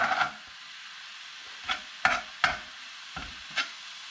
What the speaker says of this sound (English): You can cook it in oil to get it crispy on the outside and golden.